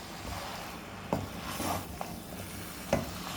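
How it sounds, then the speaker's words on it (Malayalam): A spoon stirs Kerala-style beef fry with masala in a pan, giving a few soft scraping knocks over a low steady sizzle, quiet and close. "ബീഫുമായിട്ട് നല്ലവണ്ണം ഇളക്കി കൊടുക്കുക."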